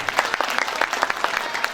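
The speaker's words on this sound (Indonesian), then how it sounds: "Tepuk tangan buat Indonesia." Students clap together in a high school hall, a dense burst of applause from a crowd filling the room for the whole short stretch, with no speech over it.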